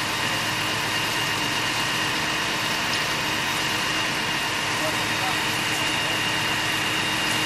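A Volkswagen Voyage car engine runs steadily after a fire in São Paulo, a loud, continuous idling drone with broadband noise that holds without pause for several seconds.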